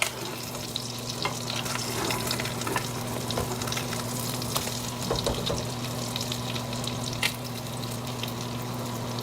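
Spam fries in hot grease in a pan with a steady, dense crackling sizzle and occasional louder pops, heard up close with no talking.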